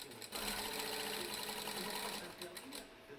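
A sewing machine runs steadily, stitching fabric with a fast, even mechanical whir at close range for about two seconds before slowing to a stop.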